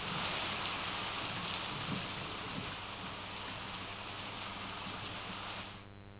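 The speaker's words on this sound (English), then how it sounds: "Man, is this storm ever going to end?" Heavy rain falls during a storm, a dense, continuous hiss of drops on surfaces that stays steady and fairly loud throughout before easing slightly at the very end, with no talking.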